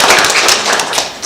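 Close, loud clapping from an audience at a school board meeting, a short burst of overlapping hand claps with no talk.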